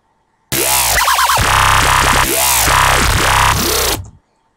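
A synth bass patch built in Massive plays alone without drums, a loud growling, wobbling tone with shifting resonant sweeps over about three and a half seconds.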